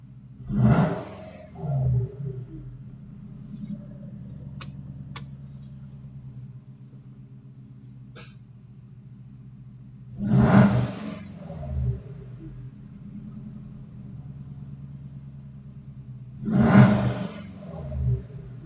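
Subaru EJ20 engine with a suspected failing turbo, running at a steady low rumbling idle, broken three times by loud roaring revs with a rushing whoosh as it climbs and settles.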